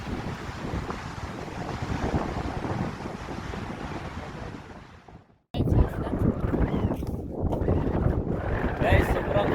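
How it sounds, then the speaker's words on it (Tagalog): Strong wind buffets the microphone in a loud, steady roar at Gullfoss waterfall in Iceland, briefly dropping out before surging back just as hard. "sobrang hangin dito"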